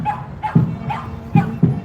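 A dog barks and yips repeatedly in short bursts at an outdoor Stand for Science rally, fairly close, with crowd noise in the background.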